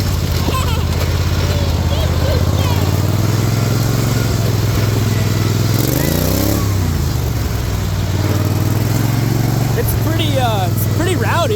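Cub Cadet XT1 off-road mower with a swapped John Deere five-speed transaxle pulls away in second gear, its engine droning loud and steady up close with a brief rising rev midway, and voices chatting over it.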